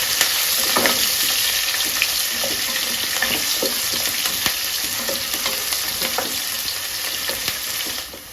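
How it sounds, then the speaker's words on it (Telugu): Onions with mustard seeds frying in hot oil for a village-style country chicken curry, a steady loud sizzle throughout with scattered small pops and crackles, no talking, cutting off abruptly at the end. "ఓకే ఫ్రెండ్స్, ఆనియన్ వేగిపోయింది."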